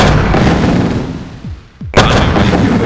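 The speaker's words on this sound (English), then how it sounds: "I'm taking heavy fire!" Gunfire and heavy weapon impacts in C&C Tiberian Sun during a Nod skirmish against a hard AI, loud and dense, with two falling whistles before a sharp renewed barrage.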